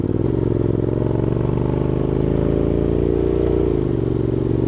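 Honda X-ADV750 motorcycle ridden on a mountain road toward an off-road camping spot, its engine a loud, steady drone close by, dropping in pitch near the end as the rider downshifts.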